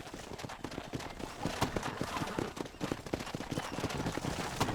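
Horse hooves clip-clop in the Red Dead Redemption video game as the horse trots toward a stable on a ranch, a brisk, steady rhythm of sharp knocks over faint outdoor ambience.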